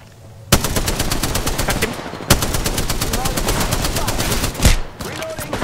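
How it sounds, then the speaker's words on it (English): Rapid automatic gunfire in a video game hits the player's character, a loud, dense stream of close shots with a couple of heavier impacts and a faint voice underneath. "Oh, I'm getting shot so hard."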